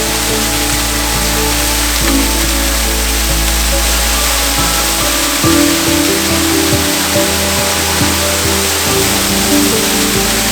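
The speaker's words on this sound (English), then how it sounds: "Easily one of the most hidden and secretive waterfalls in the Peak District" Steady roar of Waterfall Swallet in the Peak District, loud and constant, with a broad rushing hiss filling the whole clip.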